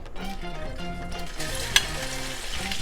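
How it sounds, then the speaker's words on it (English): Sausage fries in a little oil in a hot pan, a steady close sizzle and crackle with one brief sharp pop near the middle. "I don't want my oil to be too hot because I don't want my sausage to burn."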